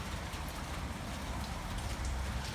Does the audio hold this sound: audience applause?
no